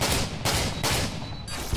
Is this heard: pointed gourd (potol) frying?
no